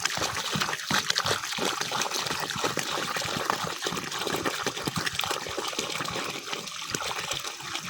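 Water is poured out in irregular splashing gushes and trickles, close and fairly loud, with uneven pulses throughout and no clear talk.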